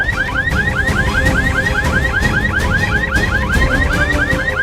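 An emergency alarm rings in a hospital ward in a Hindi TV drama, a loud electronic whooping tone that repeats rapidly and continuously without pause.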